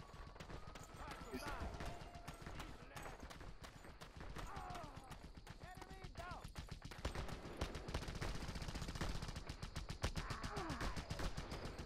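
Rapid gunfire from the video game Just Cause 2, dense automatic bursts and volleys of shots running throughout, with someone talking over the shooting.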